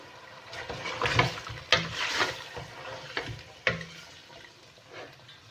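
Chicken being cooked in a pot with ginger and garlic, then a yogurt mixture, giving irregular scrapes, knocks and clatters from stirring over a low, steady background, with no talk.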